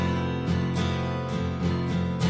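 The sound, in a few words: guitar strumming chord change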